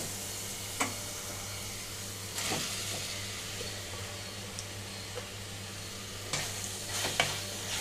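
Potato pieces tipped into a pan of frying green chilli masala for aloo fry and stirred, a steady close sizzle with a few sharp scraping clatters of the spoon against the pan.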